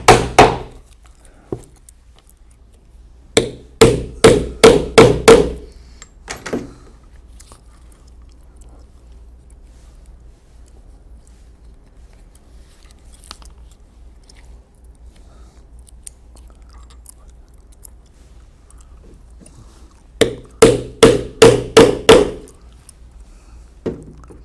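Medium-sized rivets are hammered into a leather belt in quick bursts of sharp, close metallic blows, a few rapid strikes per group, separated by long quiet gaps.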